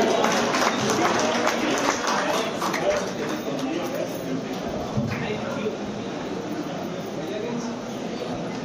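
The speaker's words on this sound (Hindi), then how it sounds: "जोरदार ताली संगवा रहे हो सुनील सोनी जी पर" Loud, dense applause from a crowd at the Cinema36 Awards 2025 ceremony, honoring a film award winner on stage. It runs steadily through the whole stretch, with a host's voice speaking over it.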